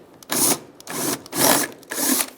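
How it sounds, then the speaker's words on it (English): Drill bursts boring out plastic rivets on the evaporator case of a 2007-2013 Chevrolet Silverado, four close, loud whirring runs of about half a second each, separated by short pauses. "We're going to have to drill those out."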